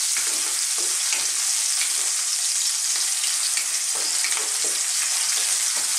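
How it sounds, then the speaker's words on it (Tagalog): Onions sauté with garlic in hot oil in a pan for a Filipino ginisang upo and sardines dish. A loud, steady, close sizzle fills the whole stretch, with faint soft stirring scrapes now and then. "Sasabay na rin po natin ang sibuyas. Gigisayin lang po natin."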